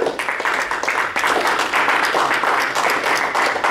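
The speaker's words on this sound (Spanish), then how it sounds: "¿Cuánto le dan un aplauso al Señor?" Church congregation applauds during a sermon, loud rhythmic clapping from many hands pulsing together in quick repeated waves close to the listener.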